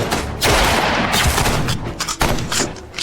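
Several loud gunshots crack out in quick succession, close and punchy, in broad bursts that run through the whole stretch with only brief dips between volleys.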